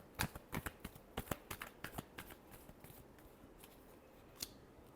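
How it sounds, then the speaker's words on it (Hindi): Tarot deck being shuffled during a card reading, a run of crisp riffling snaps in quick clusters that thin out toward the end, with one last sharp flick; close and fairly quiet, with no talking. "last shuffle"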